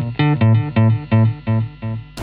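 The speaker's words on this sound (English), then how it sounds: "I'll add in a digital delay actually, rather than a tape delay, which on its own sounds like this." Electric guitar run through a digital delay pedal, a short phrase of notes repeating in evenly spaced echoes, each pulse clear and fairly loud, with no talking.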